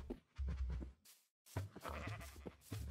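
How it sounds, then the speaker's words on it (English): Sheep bleating in Minecraft on PS5, a series of close, clear baa calls in quick succession with one short silent gap between them. "Let's see what happens when the black sheep and the red sheep breed."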